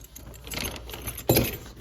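A set of keys jangles in two bright, rattling bursts, the second sharper and louder, against a soft background hiss.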